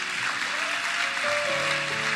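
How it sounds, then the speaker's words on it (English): A church congregation claps together in a sustained wash of applause, steady and fairly loud, with a faint held tone from an instrument or voice beneath it. "we can give a clap to the Lord"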